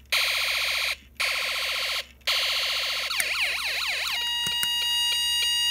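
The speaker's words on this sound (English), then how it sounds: "A European siren, although it doesn't work properly." Electronic European siren from a Snap Circuits Arcade kit that doesn't work properly: a loud buzzing warble that cuts out twice, then shifts into a fast up-and-down sweeping tone before breaking into erratic steady beeps and clicks.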